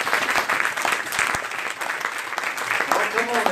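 A church congregation at an Easter Sunday morning service claps in praise, a dense crackle of applause filling the room while a voice speaks over it.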